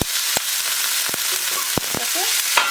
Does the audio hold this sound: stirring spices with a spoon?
yes